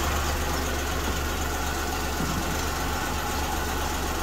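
A car engine idling slightly high at about 1000 rpm, a steady, even hum with no changes in pace, close and continuous under broadband noise, no one talking.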